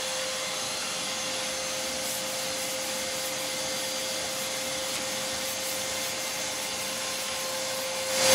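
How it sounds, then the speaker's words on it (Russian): A vacuum runs steadily with a constant whine and airflow hiss while a surface is sanded with 180-grit 3M abrasive on a block, a soft continuous rubbing under the drone, with no talking. "И пылесос."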